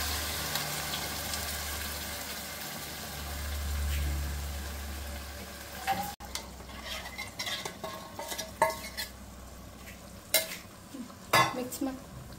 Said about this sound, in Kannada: ಮಸಾಲೆನ ಹಾಕಿ ಇನ್ನು ಸ್ವಲ್ಪ ಫ್ರೈ ಮಾಡಬೇಕು